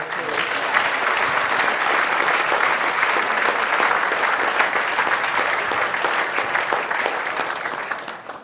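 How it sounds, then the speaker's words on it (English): Sustained applause from an audience at an environmental awards ceremony fills the room, a steady dense patter of many clapping hands holding level for several seconds before easing slightly at the end. "Perhaps you might like to just give all of them a round of applause."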